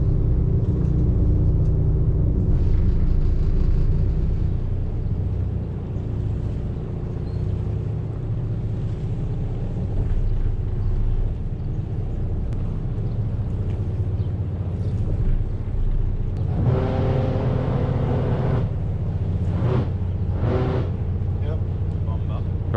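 A multi-million-dollar yacht's engines and bow thruster rumble steadily as it pulls the stern off the dock and clears it, a broadband churn swelling louder near the end, with people talking over it.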